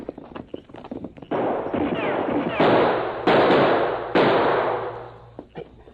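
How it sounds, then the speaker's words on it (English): Gunfire from behind a large rock on the side of a canyon in an old Lone Ranger western, heard as several sharp shots with echoing ricochet-like bursts, loud and close, no talking. "Someone shooting behind large rock on side of canyon."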